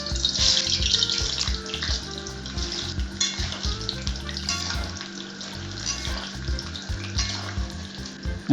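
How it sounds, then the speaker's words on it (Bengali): Potatoes frying in hot oil in a wok in an outdoor village kitchen: a steady, close sizzle that runs unbroken throughout, over a low droning hum. "তেলটা গরম হয়ে গেলে এর মধ্যে আলুগুলো ভেজে নেব ভালো করে"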